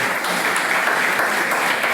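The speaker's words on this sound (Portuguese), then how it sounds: "uma salva de palmas aos vereadores por terem estado até agora" Applause for municipal councillors at a climate conference: a steady, dense wash of many hands clapping throughout, moderately loud with no voices standing out.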